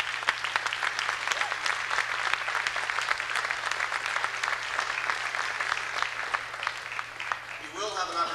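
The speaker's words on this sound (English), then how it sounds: "I think they deserve a warm round of applause." Audience applause at a 1989 year-end school music concert in a hall, steady dense clapping from a large crowd lasting throughout, fairly even in level with a faint hum beneath.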